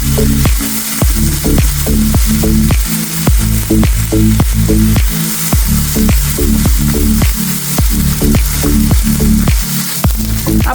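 Onion with green chillies and curry leaves sautés in a hot pan, a loud continuous sizzle broken by rhythmic, repeated scraping strokes of a spoon stirring close by.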